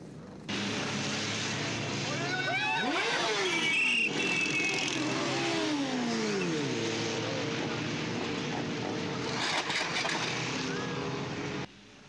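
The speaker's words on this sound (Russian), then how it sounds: "мотоцикл продолжает движение без наездника" A motorcycle engine at a bike rally on a central city street in Krasnodar, its revving pitch sweeping up and down over a constant traffic roar, with a rising whine at the end.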